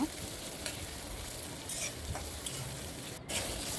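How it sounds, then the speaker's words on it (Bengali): Chopped onions fry in hot mustard oil in a wok, a dense, steady sizzle with occasional stirring scrapes, close and continuous with no talk. "তেল গরম হয়ে গেছে পেঁয়াজ কুচিগুলো কড়াই দিয়ে দেব"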